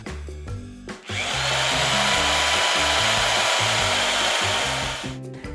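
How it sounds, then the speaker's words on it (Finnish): A toy screwdriver drives the wheels onto a toy tractor, giving a steady, loud whirring buzz for several seconds that starts and stops abruptly, with a musical background underneath. "Ruuvin vääntimellä saamme pyörät nopeasti ruuvattua."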